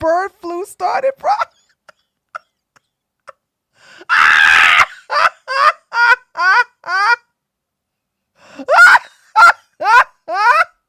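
A pet bird gives a series of short, loud, goose-like honks in close bursts, with a few pauses between them and a burst of people's noise in the middle.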